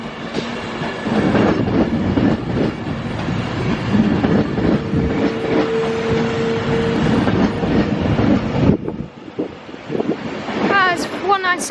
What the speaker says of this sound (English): 197114 behind me is now departing to Chester